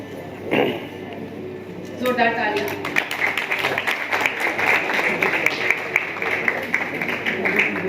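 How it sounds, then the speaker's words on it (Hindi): Audience applause fills a film press conference hall, a steady sustained clapping that swells after a moment and continues throughout at moderate loudness, with people talking underneath. "जोरदार तालियां।"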